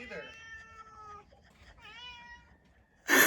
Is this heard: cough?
no